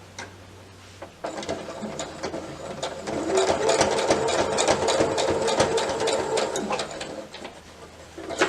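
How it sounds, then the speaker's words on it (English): Sewing machine stitching along the edge of a bag strap folded through a D-ring, a steady loud mechanical whir with rapid ticking that starts after a quiet moment and runs continuously, closing with a brief clatter. "you can go ahead and sew this edge just to hold it in place"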